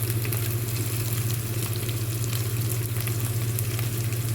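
Curry leaves sizzle in hot oil while cooking a drumstick (moringa) leaf dish, giving a steady, close frying hiss over a low hum, with no talking.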